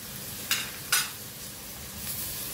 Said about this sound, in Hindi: साथ ही शिमला मिर्च डाल के फ्राई करेंगे